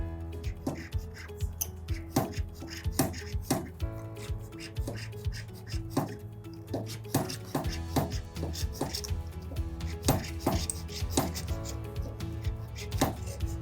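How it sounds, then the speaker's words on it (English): A saw cuts around a wax ring tube for lost-wax casting of a silver ring, producing close, repeated rasping strokes in an irregular rhythm over a steady low background hum. "you just keep following it all the way around until you saw it off"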